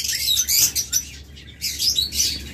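A pair of cobalt opaline budgerigars chirping close by in rapid, bright bursts with brief pauses, with no voices.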